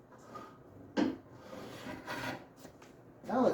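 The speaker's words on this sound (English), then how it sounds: "let's take the clamps off." Clamps come off a glued wooden coin display with quiet close wooden knocks and rubbing scrapes. Two sharper clunks stand out against the low, soft background.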